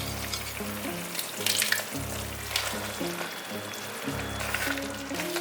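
Sweet and sour sauce for a vegan dish simmers in a pan over medium-low heat, a close steady sizzle with bubbling and low rhythmic stirring sounds, no voice.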